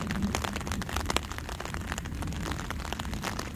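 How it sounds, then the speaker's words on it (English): Rain falls steadily at Gold Beach, Normandy, early in the morning, a soft even hiss of drops with faint scattered patters, fairly quiet and with no talking. "Still raining."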